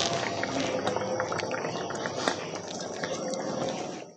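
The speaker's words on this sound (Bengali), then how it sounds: "কি সুন্দর তরকারিটা ফুটতে শুরু করেছে" A rohu fish and cauliflower curry with potatoes bubbles in a pot, a steady close simmering hiss with soft liquid pops throughout.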